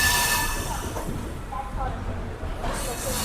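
A MEMU train at Villupuram Junction rumbles and hisses in a steady, loud roar, with a brief high squeal early on and faint talk mixed in.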